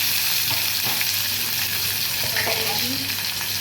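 Mustard seeds, cumin, curry leaves, chili and onion frying in hot oil for a festive vegetarian dish, a steady close sizzle with faint crackles and a few soft stirring knocks, with no talking.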